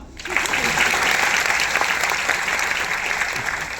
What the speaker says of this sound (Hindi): थोड़ी तो ताली बजा लो